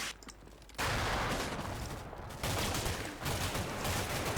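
Dense gunfire rattles in the war game Combat Mission Shock Force as a loud, continuous fusillade of rapid shots, starting after a brief quieter moment.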